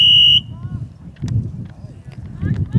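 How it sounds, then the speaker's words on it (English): A loud whistle or buzzer at an XFFL football game at a windy sports park sounds as one sustained piercing tone lasting under half a second at the start, followed by wind noise and faint crowd and field sounds. "That's a rather loud whistle or a buzzer."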